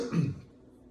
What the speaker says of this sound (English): I'm trying to cough it up